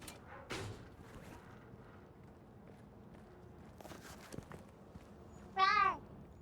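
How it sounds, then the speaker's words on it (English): A cat meows once, briefly and clearly, inside the video game Indiana Jones and the Great Circle, heard after scattered footsteps and soft game ambience. "I heard a cat! I heard a meow!"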